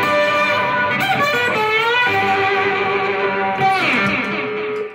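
An overdriven electric guitar plays sustained, bending notes with a warm distorted edge, steady and prominent from start to finish.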